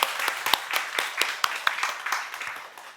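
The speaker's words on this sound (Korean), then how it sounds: "우리가 하나님께 감사와 영광의 박수를 한번 올려드렸으면 좋겠습니다" A church congregation at a Sunday worship service breaks into a round of applause, with brisk, uneven clapping from many hands that fades slightly toward the end.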